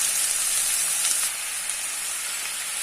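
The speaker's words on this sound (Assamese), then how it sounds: "সেইখিনি এতিয়া মই ভালকৈ মিক্স কৰি 5 মিনিটমান ফ্ৰাই কৰিম।" Chicken curry with potatoes frying in a pan in Assamese-style cooking, a steady hissing sizzle that holds evenly throughout, up close with no talk.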